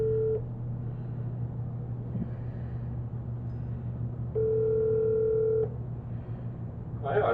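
An outgoing phone call's ringing tone sounds twice, a brief burst at the start and a longer steady tone a few seconds later, over a constant low hum.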